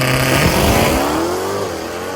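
A Whipple-supercharged Mustang engine revs hard before a race, loud and close, its pitch climbing and then holding in a steady roaring drone with no voices over it.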